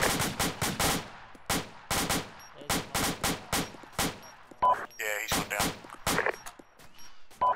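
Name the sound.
machine gun fire in a video game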